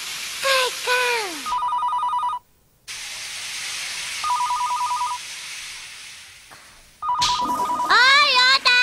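A telephone rings in an animated scene, sounding three rapid trilling electronic bursts spaced a couple of seconds apart, with voices talking before and after and a hissy background.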